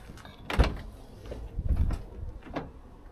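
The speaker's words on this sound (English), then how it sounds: "We've got sliding doors on both sides." Sliding door on a Daihatsu Hijet 4x4 deck van, a small crew-cab kei truck: a few close, moderately loud mechanical slides and thuds spread over about three seconds, with no voices.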